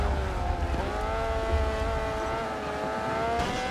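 A Formula C open-wheel race car in GRID Autosport drones through a corner, its engine holding a strained, buzzing tone with brief pitch dips and rises as it shifts and accelerates, with no voices over it.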